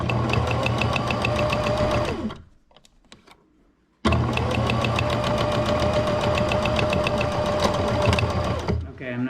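A sewing machine stitching the seam of a fabric mask, a loud rapid mechanical whir that runs steadily, halts for about two seconds with faint clicks, then resumes at the same pace.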